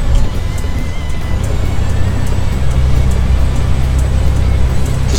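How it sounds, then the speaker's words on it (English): A truck with a Detroit 6 Series engine sound mod in American Truck Simulator rumbles steadily with a deep, constant low drone and road noise throughout. "Got the Detroit engine in this."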